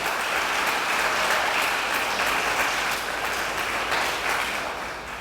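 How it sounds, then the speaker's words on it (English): Sustained applause from the audience at a wastewater treatment plant upgrade ribbon cutting in Richmond, a dense, even wash of clapping that holds steady for several seconds before easing off slightly at the end. "let's give Bob a round of applause"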